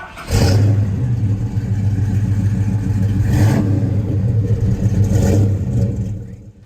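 A big V8 engine idles with a deep, lumpy rumble, revving up three times in quick bursts, loud and close.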